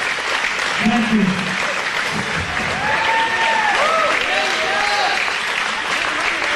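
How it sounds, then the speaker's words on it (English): A wrestling crowd at a death-match show applauds wrestler Nate Webb: sustained loud clapping from a large audience fills the hall, with voices and shouts rising through it and a commentator speaking over the top. "Crowd shows their appreciation for the efforts of Nate Webb."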